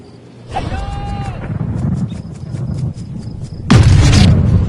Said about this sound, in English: did you hear the sound of that coming off the club face? It was like a cannon.